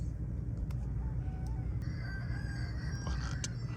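Chickens clucking with a rooster crowing among them, the calls rising over a constant low rumble of background noise, several short bird notes scattered throughout.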